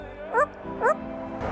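A pet parrot mimics a dog, giving two short, sharp barks about half a second apart, close and clear over a quiet room.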